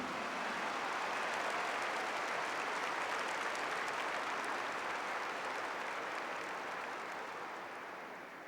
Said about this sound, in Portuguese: Give the Lord a big clap for this.